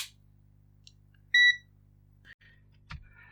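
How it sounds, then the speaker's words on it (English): A multimeter gives a single short, clear electronic beep, fairly near and alone, while being switched to DC voltage to test a faulty Marshall Emberton speaker's battery pack; faint clicks and handling noises follow. "let's get the multimeter on voltage DC"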